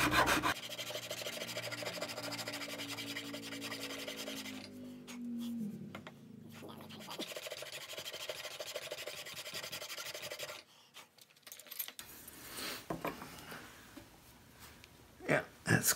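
Sharp file or rasp cutting wood during work on a swivel breech project, producing steady, close, gritty rasping strokes that run continuously and then break into shorter scrapes, with no talk over them.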